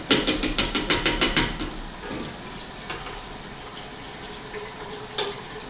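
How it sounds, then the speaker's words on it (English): Green vegetable juice is poured in a home kitchen, a faint, soft liquid trickle that follows a quick burst of rhythmic mechanical clicking at the start. "let's go ahead and pour the rest of that on there"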